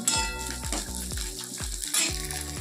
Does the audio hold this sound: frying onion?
yes